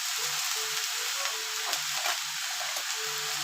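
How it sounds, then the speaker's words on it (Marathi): Fenugreek leaves roasting in a hot pan for a spicy thecha, giving a steady close crackling sizzle that runs throughout, with faint tonal hum in the background and no talking. "ही मेथी चांगली व्यवस्थित भाजून घ्यायची"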